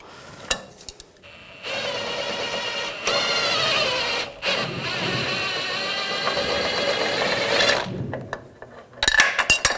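A wheel bearing tool on the rear suspension of a 2006-2010 BMW 550i is loosened with a loud, steady mechanical whirr of about six seconds, with scattered metallic clicks before and after.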